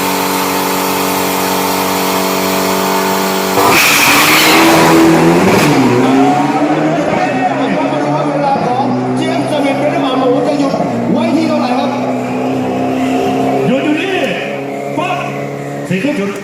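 Turbo diesel pickup trucks on radial tyres launch side by side at a drag racing event, engines idling and then roaring into hard, rising acceleration that fades down the strip, with an announcer talking over the noise.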